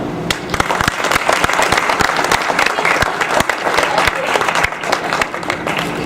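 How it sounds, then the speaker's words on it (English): An audience at a school winter sports awards ceremony applauds steadily, a dense and lively patter of many hands clapping at close range that carries on for several seconds. "they deserve a big round of applause for that"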